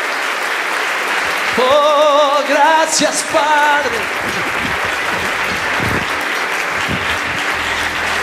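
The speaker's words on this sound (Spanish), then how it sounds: "¿Le puedes dar un aplauso al Señor?" A church congregation applauds loudly and steadily throughout, with a voice speaking briefly over the clapping.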